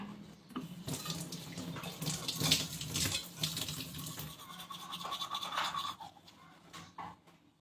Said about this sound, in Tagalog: Toothbrush muna tayo guys. Toothbrush tayo.